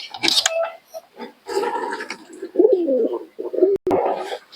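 Soft pigeon coos in short phrases, close by, with a brief sharp click and other bird noises around them.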